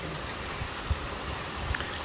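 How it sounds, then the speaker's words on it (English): Rain falling in Florida makes a steady, even hiss with a few soft drips and thuds standing out, and no voices. "This is just some rain."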